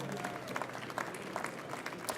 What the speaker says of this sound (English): how about a big round of applause for Thermo Fisher Scientific?